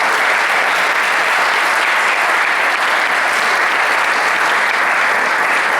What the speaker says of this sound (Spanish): Os agradecería un fuerte aplauso aquí para los ponentes.